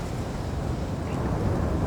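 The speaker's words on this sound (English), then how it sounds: "The gusty winds are in our favor." Strong wind buffets the microphone in a steady low roar, rumbling heavily and without pause throughout.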